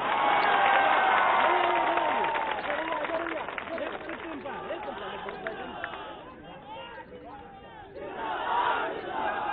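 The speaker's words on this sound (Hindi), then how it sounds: "इस बार नौजवानों ने ताली भी बजाई है और नारे भी लगाए हैं" A large young crowd at a 2017 political rally in Gorakhpur, Uttar Pradesh claps and chants slogans, a loud, dense roar of voices and hands that gradually thins and then swells again near the end.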